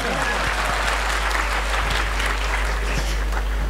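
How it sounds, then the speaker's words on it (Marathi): Steady applause from an audience at an organ donation awareness talk at a technical campus in Nanded, a dense wash of many hands clapping at even loudness throughout. "जोरदार टाळ्या।"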